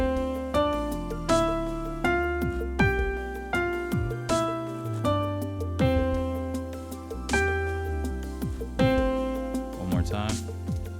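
A piano practice piece played with both hands: steady, evenly paced notes and chords with a low bass line beneath a melody, close and moderately loud, continuing for several bars.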